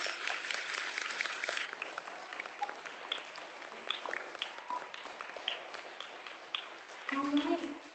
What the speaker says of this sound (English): Let's give Ms. Cloto's class a big round of applause for their accomplishments.